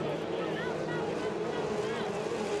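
An F2500 racing powerboat's engine drones at speed during a 2015 qualifying heat at Beauharnois, a loud, steady roar with rising whine, wind buffeting and a commentator talking over it.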